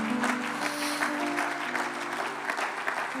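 Church congregation applauding during a worship service, sustained clapping with faint held organ or keyboard tones underneath, moderate level and continuous.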